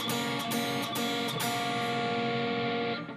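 An electric guitar rings out with two notes picked slowly in a handful of upstrokes, each attack distinct before the notes sustain together and fade near the end, close and clear with no talking.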